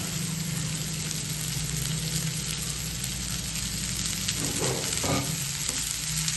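A large batch of cut okra, about 4 kg, fries with onion in a pan, making a dense, constant close sizzle with soft stirring movements partway through.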